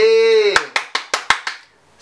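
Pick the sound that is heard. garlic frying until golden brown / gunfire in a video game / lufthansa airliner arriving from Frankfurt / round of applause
round of applause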